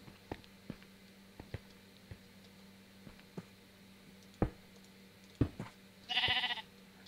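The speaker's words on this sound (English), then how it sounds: "Oh, sheep!" A single sheep bleats briefly in Minecraft near the end, following a scattering of soft clicks and ticks from game footsteps and actions against a quiet background.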